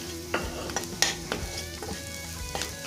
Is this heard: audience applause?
no